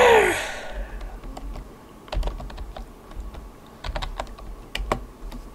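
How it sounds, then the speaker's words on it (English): Quick, irregular clicks of typing on a computer keyboard, close and fairly quiet, coming in short flurries with brief pauses, following a faint breath at the start. "I typed it in wrong"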